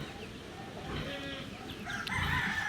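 A hen with two chicks on a farm where pigs and chickens are fed: soft clucking and fowl calls close by, with thin high chirps toward the end, faint and brief against quiet background noise.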